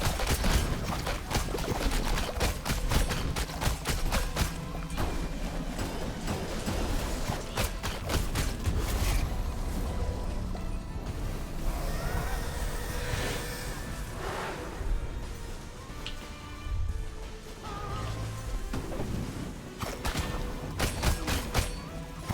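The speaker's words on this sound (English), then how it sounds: "Right, explosions." Explosions go off in Rogue Legacy 2 over dense, continuous game noise. Repeated booming blasts and crackling bursts fill the scene with little letup.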